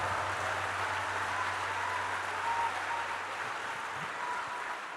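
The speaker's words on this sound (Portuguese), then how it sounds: "quer aplaudir, aplauda, vai lá" Steady applause from a church congregation fills the space continuously, fairly distant and even, with no voices standing out above it.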